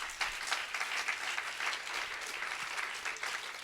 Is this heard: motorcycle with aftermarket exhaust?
no